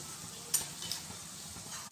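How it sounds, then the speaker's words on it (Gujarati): Onions fry steadily in a hot pan with a soft hiss, punctuated by a couple of light stirring clinks, while cooking pav bhaji. "આપણી ડુંગળી બરોબર શેકાય ત્યાં સુધી આપણે એને શેકવાની છે"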